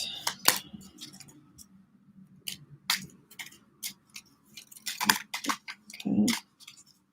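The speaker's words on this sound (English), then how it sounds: "There's just a lot of cards flying around, so I just want to make sure I have a good shuffle first" A deck of tarot cards is shuffled by hand in bursts of sharp riffling snaps and soft slaps, irregular and close, separated by short quiet gaps.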